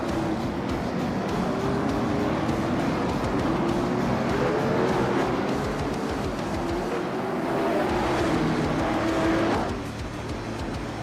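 Late model stock race cars roll off pit lane at New Smyrna, a dense, steady engine drone from the whole field holding for about nine seconds before easing off near the end.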